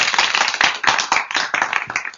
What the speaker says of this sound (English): I want to give you the proper applause here